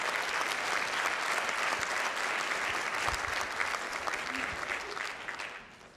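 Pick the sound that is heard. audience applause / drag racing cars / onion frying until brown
audience applause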